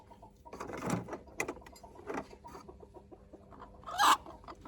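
A hen at a home clucks quietly at a distance amid faint household noise, with a few scattered soft sounds and one brief louder squawk-like burst near the end.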